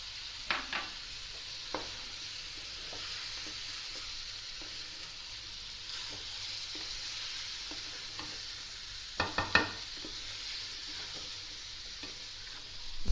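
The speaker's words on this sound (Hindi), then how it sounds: "अब चिकन मेरा भून रही हूँ अभी" Chicken in yogurt is fried in a karahi while being stirred: a steady, close sizzle runs throughout, with occasional sharp scrapes and clinks of the spoon against the pan and no talking.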